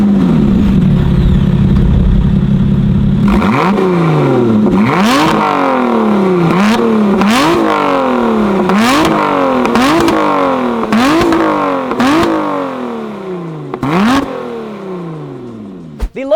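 A Lotus Evora 400 sports car revs through its single exit exhaust: a loud, close engine that settles into a rising and falling series of about seven sharp blips before cutting off.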